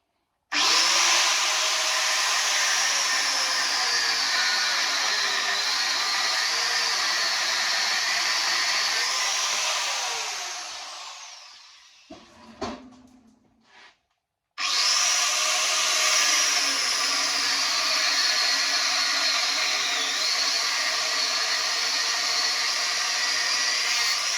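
A power tool cutting down the rear stand of a 1920s Raleigh bicycle, a loud sustained whine running about ten seconds, winding down with brief metallic clatter, then a pause before a second long steady cut.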